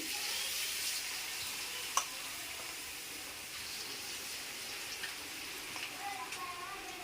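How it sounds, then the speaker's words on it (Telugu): Batter for onion and thotakura pakodi fries in hot oil with a steady, close sizzle and crackle. A few small pops and clinks sound over it. "ఇగో ఇట్లా కాలాలి, నూనె అంతా బుసుబుసు అన్నది అంతా అయిపోవాలి"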